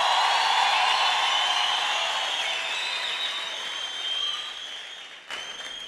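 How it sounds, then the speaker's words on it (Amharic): A church congregation at a preaching service applauds together, a dense, steady wash of many hands clapping that slowly thins toward the end, with no talking over it. "እስቲ አጨብጭቡልኝ"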